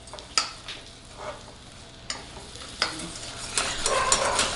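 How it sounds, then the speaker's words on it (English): A melting mixture for monkey bread is stirred in a pan, making repeated spoon scrapes and clicks over a gentle sizzle that grows louder toward the end. "So I'm going to gently stir this while it's melting together on the pan"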